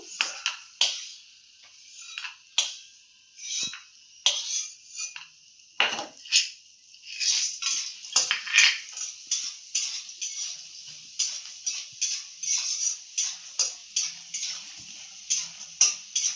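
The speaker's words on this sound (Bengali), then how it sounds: "বড়িটা ভাজা বসাবো।" Sun-dried lentil dumplings (bori) fry in a pan while a utensil scrapes and stirs them in quick, irregular clinks over a steady soft sizzle, close up with no talking.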